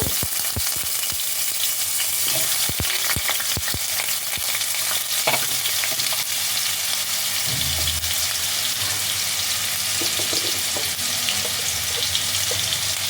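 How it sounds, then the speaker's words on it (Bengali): Cut potatoes fry in hot mustard oil in a kadai, with a steady loud sizzle throughout and scattered clinks and scrapes of stirring, no voices. "তেলটা গরম হয়ে গেছে এবার আমি এর মধ্যে দিয়ে দেব কেটে রাখা আলুগুলো"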